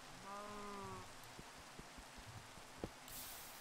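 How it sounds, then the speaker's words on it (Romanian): Rain falls steadily in the Minecraft video game, a soft even hiss of drops with a few faint taps, quiet behind a brief tonal game sound, no talking. "Mamă, dar ce se aude ploaia."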